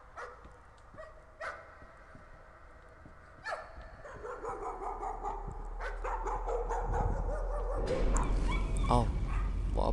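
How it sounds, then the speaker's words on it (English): A dog in the horror video game Layers of Fear barks, yips and whimpers in repeated bursts, growing louder and more frantic, over eerie game ambience and rising low rumble. "Oh, there's a dog."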